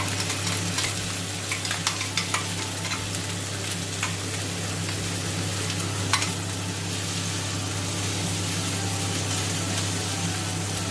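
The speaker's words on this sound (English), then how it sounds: "The moment when you get nice aroma, you need to add onion paste." Onion paste fries in a pan for paneer masala, a steady close sizzle with scattered crackles over a constant low hum.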